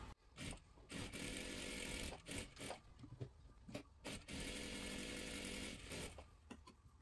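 Sewing machine stitching a double seam on a salwar, bursts of fast rhythmic whirring broken by short pauses, close and fairly quiet.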